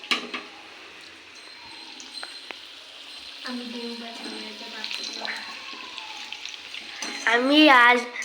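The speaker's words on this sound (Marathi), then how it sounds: "हे बघा भजी इथं तळती आहे" Cauliflower pakoras deep-frying at home give a close, bubbling sizzle with small clinks of utensils, while someone talks over it and a brief louder clatter comes near the end.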